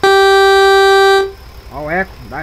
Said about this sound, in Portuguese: Buzina normal.